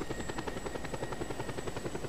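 Helicopter flying in Just Cause 2, a steady, loud rotor thump beating rapidly and evenly under a thin high whine, continuous throughout with no talk.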